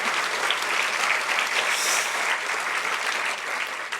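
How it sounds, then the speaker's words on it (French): Audience at a municipal New Year's greetings evening gives sustained, lively applause, many hands clapping continuously at close range before easing slightly at the end. "Allez-y, vous pouvez les applaudir."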